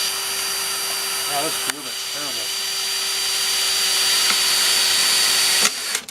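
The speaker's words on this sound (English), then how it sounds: "I just simply drill my first hole" A power drill whines continuously at high pitch, drilling a hole, steady and loud, briefly under a spoken remark early on.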